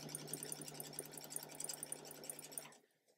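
A sewing machine chain-pieces quilt fabric, its needle pounding in a fast, even rhythm with a steady motor hum for nearly three seconds, then stopping abruptly; faint and close, with no talking.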